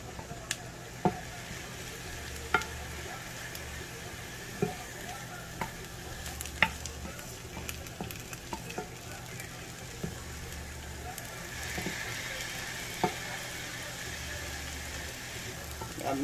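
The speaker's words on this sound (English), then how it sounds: "Throw all the veggies in again." Vegetables for stuffed bell peppers sizzle steadily as they fry together in one pot, with scattered clicks and scrapes of stirring, and faint background sound underneath.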